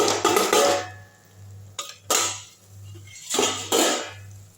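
Metal lid lifted off a cooking pot of simmering bitter gourd thokku, a few clattering knocks and scrapes in bursts separated by quieter gaps, close by with a steady low hum underneath.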